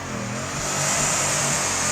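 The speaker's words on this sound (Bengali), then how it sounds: "আর এখানে আমার গাড়ির সাউন্ড তোমরা শুনতে পাচ্ছ।" A car engine in the drifting video game Torque Drift revs hard and climbs in pitch, a loud continuous mid-range roar that holds steady without any talking.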